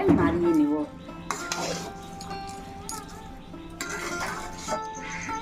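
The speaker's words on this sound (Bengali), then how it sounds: "ভালো করে নাড়িয়ে নিব।" A spoon stirs khichuri in a cooking pot, giving a few light metallic clinks and scrapes. A voice is heard briefly at the start, and the stirring is fairly close but not loud.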